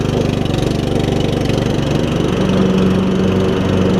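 Riding lawn mower engine with a worn-out muffler runs steadily and loudly up close, a continuous rough, throbbing idle with a rapid pulsing beat throughout.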